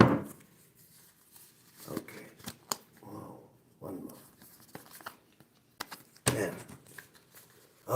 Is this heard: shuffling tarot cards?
yes